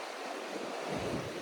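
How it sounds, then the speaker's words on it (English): Strong seaside wind roars steadily into the microphone with a constant broadband rush and low buffeting, surf-like and loud, with no voices. "It's too windy."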